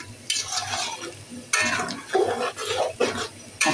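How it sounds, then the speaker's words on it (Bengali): Beef tehari with yogurt being stirred and sautéed in a pot: repeated close scraping and clattering stirs over a soft sizzle, no voices. "এখন আবার আরও কষিয়ে নেব।"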